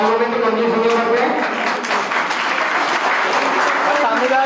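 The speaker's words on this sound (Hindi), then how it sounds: "इनके सम्मान में तालियों में तो कंजूस नहीं करते।" Audience applause at an inauguration ceremony for the second floor of a hostel building in Jagatpura, Jaipur: dense, sustained clapping at steady loudness over 4.5 seconds, with a few voices mixed in.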